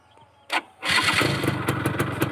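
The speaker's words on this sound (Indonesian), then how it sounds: "nyala deh mesinnya" A Yamaha F1ZR motorcycle engine fires up on its electric starter, a brief cranking burst then catching into a steady, buzzy two-stroke idle, close and loud with no talking.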